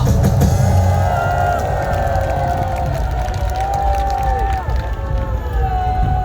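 Large outdoor rally crowd at Gwanghwamun in Seoul, a loud sustained roar of clapping and cheering with rising and falling whistle-like tones drifting through the steady wash of noise.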